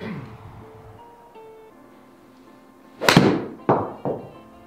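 Golf shots struck with a Titleist U500/U510 utility iron: three sharp, loud impacts close by, the first strongest and two more following about half a second apart, each decaying quickly.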